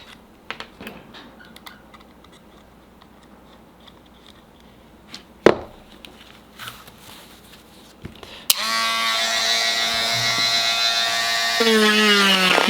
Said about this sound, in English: I'm just gonna go ahead and use me old Dremel